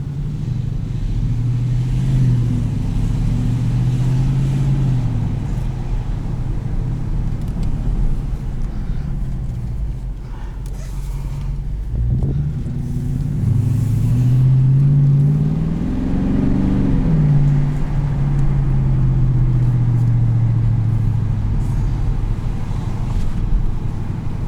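A 2018 Dodge Challenger T/A Plus 5.7-litre V8 with automatic transmission and exhaust valves closed rumbles steadily, its pitch rising and falling as it revs and accelerates, with wind buffeting in the background.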